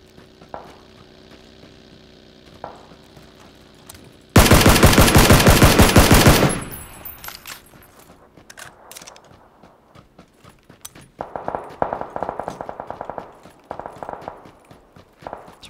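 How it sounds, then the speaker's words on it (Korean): M4 rifle fire in PUBG Battlegrounds: a loud, sustained automatic burst of about two seconds, followed later by quieter, more distant rapid gunfire and scattered shots against low game ambience. "엠포 잘 쏜다"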